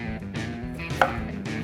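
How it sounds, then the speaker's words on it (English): A kitchen knife makes quick thin slicing cuts for a ramen garnish, a handful of soft, close chops tapping on a cutting board in a short run with one sharper knock midway. "I'm going to do little thin cuts as much as I can."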